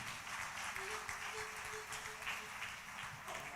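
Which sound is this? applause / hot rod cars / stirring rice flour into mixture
applause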